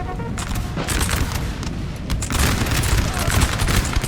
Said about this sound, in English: Volleys from the artillery. They are hitting these guys hard.